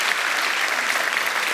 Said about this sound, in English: A round of applause for my volunteers,